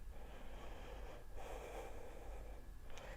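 Calm breathing in through the nose during a yoga pose, with soft, airy inhales and exhales close by and faint over a low hum.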